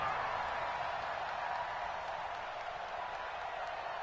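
Steady, dense crowd roar from a PS4 American football game, a continuous stadium murmur holding at an even level throughout with no distinct peaks or talk.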